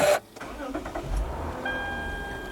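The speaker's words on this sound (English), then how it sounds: "Car started." A 2006 Lexus IS350 engine starts after a brief click, turning over and settling into a steady idle hum with a faint chime tone sustaining behind it.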